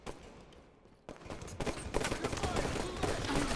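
Gunfire in a Halo 5 multiplayer match: bursts of shooting after a quieter opening second, a dense rattle of shots that carries on through the rest, with a voice talking over it.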